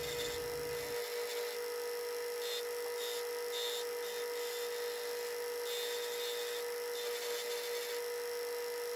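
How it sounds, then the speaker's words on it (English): A steady, harsh whirring grind runs throughout, loud and continuous, with brief fluctuations as a forged steel knife blade is pressed against a spinning wire wheel to remove scale. "back to the wire wheel to remove scale and just get some crud out of the blade"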